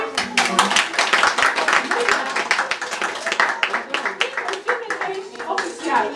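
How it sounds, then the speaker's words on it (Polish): Audience clapping at a kindergarten ceremony, a busy stream of quick overlapping hand claps, loud and close, with children's and adults' voices talking throughout. "Jeszcze raz prosimy o klaski."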